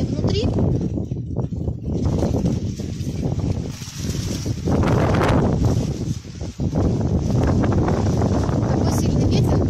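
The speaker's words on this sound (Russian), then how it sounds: "Такой сильный ветер, боюсь, меня сдует сейчас с крыши." Strong gusting wind on a rooftop in Cyprus buffets the microphone with a loud low rumble, while a person talks throughout.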